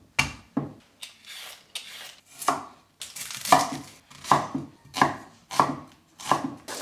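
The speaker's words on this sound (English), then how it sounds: "I just chopped some vegetables" Vegetables are chopped on a board with a knife in a series of about ten crisp, evenly spaced cuts, close and clear with short pauses between strokes.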